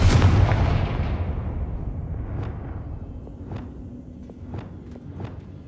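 A Confringo spell blast in Hogwarts Legacy opens with a loud booming impact that decays into a rumble, followed by several sharp lighter cracks spaced through the tail.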